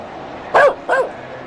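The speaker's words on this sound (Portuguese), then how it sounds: "Esse aí tá com um latido muito magro, né?" A dog gives two short, sharp barks close by, spaced a moment apart, over a quiet background.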